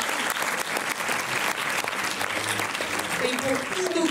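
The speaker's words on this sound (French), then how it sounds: "La séance est complète, on peut s'applaudir." An audience applauding at the opening ceremony of the 13th Montreuil Film Festival, thick, even clapping from a packed hall sustained throughout, with faint voices beneath.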